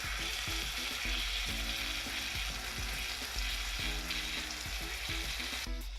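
Frozen cheesesteak meat sizzles in a skillet, a steady crackling fry broken by intermittent low scraping and clicking from stirring, close and alone with no voices.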